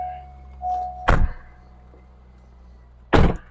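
The door of a 2001 Chevrolet Corvette with automatic transmission shuts twice with heavy, solid thunks a couple of seconds apart, over a steady low hum from the car.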